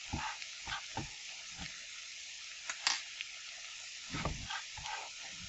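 Egg sandwich filling with fresh parsley being stirred in a hot pan, a faint low sizzle with soft scraping stirs and occasional clinks of the utensil against the pan.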